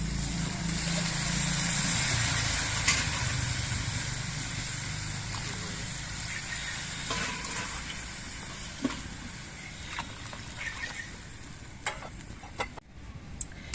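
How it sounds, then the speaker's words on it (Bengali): Water from the cup used to measure the rice poured into a cooking pot for festival khichuri, a broad rushing wash loudest at first, then fading into quieter bubbling with a few clinks of utensils. "আমি যে কাপে করে চাল মেপে নিয়েছিলাম সেই কাপে করে জলটা দিচ্ছি"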